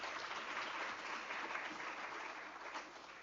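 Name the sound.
audience applause at a conference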